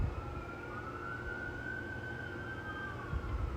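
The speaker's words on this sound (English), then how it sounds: "here come the sirens, hang on." A siren wails outside, muffled and distant, its tone slowly rising and falling over a low rumble of background noise, with no talking.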